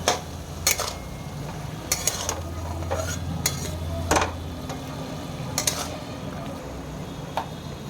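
Mashed banana stem sizzles in a pan with green chilies, stirred with a utensil that scrapes and clinks against the metal at irregular intervals over a constant frying hiss, with no talk.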